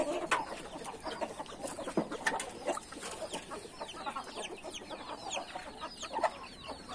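A hen with her chicks on a farm clucks in low repeated bursts while the chicks peep in rapid, high chirps all around, close and busy, with other fowl faintly in the background and no talk.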